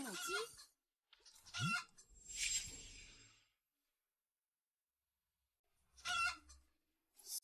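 A couple of hens clucking in short bursts close by, separated by long stretches of silence.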